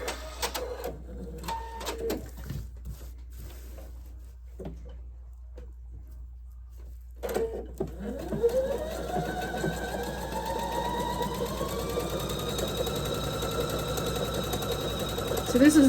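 A sewing machine stitching a hot pad, its motor whirring steadily and loudly through the second half after earlier stop-start runs, with a voice talking over the first part.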